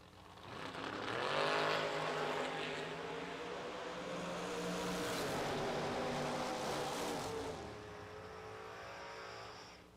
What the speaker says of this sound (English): Pretty good drag race there.